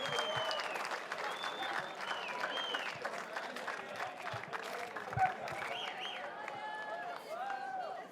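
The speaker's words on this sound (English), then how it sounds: "a big round of applause one more time for Natalia Diem" Crowd applause at a BMX award ceremony, with steady clapping and cheering whistles for a trophy-holding rider at the 2019 Vans BMX Pro Cup World Championships, a voice talking over it throughout.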